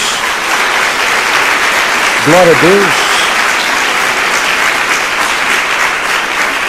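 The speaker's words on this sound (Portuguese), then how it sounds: "Dá uma salva de palmas a Jesus" Congregational applause in a church service fills the whole stretch as a dense, steady wash of many hands clapping, with a single voice briefly calling out over it partway through.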